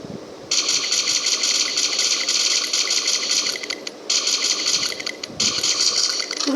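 Suppressed gunfire from a video game weapon fitted with a silencer, a rapid mechanical rattle of muffled shots in two long bursts with a brief pause between, fairly loud and without talk.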